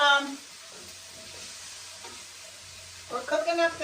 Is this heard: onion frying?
yes